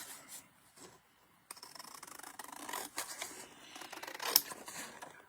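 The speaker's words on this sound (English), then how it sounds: "And I now can cut it." Scissors cut a coloured card mat for an arrow fold card, with quiet snipping and rubbing strokes close by, one brief sharp snip near the end.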